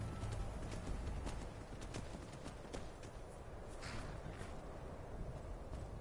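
Bronze horse's hooves clopping in Skyrim, a steady rhythmic series of close hoof beats over a low rumbling game background, with no talking.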